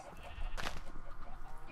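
In a farming video game, a single short sheep bleat rises out of a constant, busy background hum and is heard once near the middle. No one talks.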